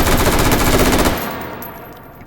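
An M4A1 rifle fires a fast automatic burst in the VR game Hot Dogs, Horseshoes and Hand Grenades. The crack is rapid and dense for about a second, then rings out in a short decaying tail.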